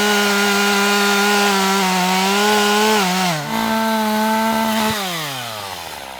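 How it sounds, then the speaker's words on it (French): Chainsaw cutting through a tree trunk, its engine drone loud and steady, dipping briefly in pitch as the chain bites deeper, then slowly winding down near the end. "Maintenant tu vas couper le tronc là."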